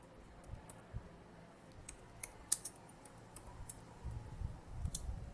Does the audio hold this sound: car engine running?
no